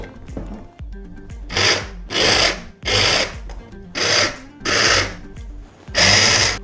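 A food processor blitzes an almond and cereal bar mixture in six loud, steady bursts of whirring and grinding, each lasting roughly half a second to a second, with short pauses between.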